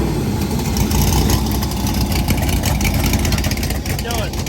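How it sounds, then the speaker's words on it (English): A newly installed engine on the racing boat Moonshine fires up and runs for a few seconds, a loud, rough, steady rumble close by with voices underneath. "Hit the ignition, let's see if she fires up."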